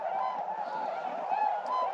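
A flock of swans flying in, honking continuously in overlapping calls, steady and moderately loud against an open outdoor background.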